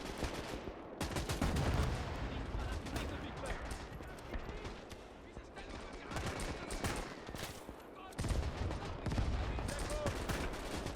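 Rapid semi-automatic fire from a G43 rifle during an open-field battle near Berlin in the Gates of Hell war game, loud repeated gunshots in bursts with battle noise throughout, a short lull in the middle before the firing picks up again.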